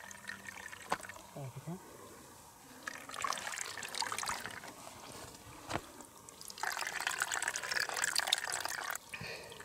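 Water runs from a mountain spring in bursts of steady rushing flow, close and fairly loud, broken by quieter gaps; a person speaks briefly near the start.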